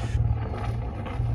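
Marine engine aboard a Jeanneau Sun Dance 36 boat starting and settling into a steady idle, a continuous low rumble with exhaust burble, close and fairly loud with no speech.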